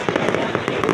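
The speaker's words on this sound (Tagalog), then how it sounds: "Fireworks everywhere." Fireworks burst repeatedly in a rapid, crackling volley during a Rizal birthday celebration in Calamba City, dense overlapping pops at moderate distance.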